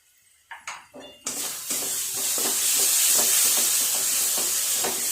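A few metal clinks lead into a strong, steady sizzle as a spice paste with Kashmiri chilli powder and garam masala is sautéed and stirred in a pan for katla fish kalia, with spoon scrapes recurring throughout.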